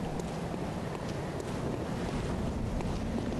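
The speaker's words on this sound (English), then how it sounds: "It's very windy up here." Wind blows steadily in the game Bloodborne, a constant rushing roar with no gusts or pauses; no voices.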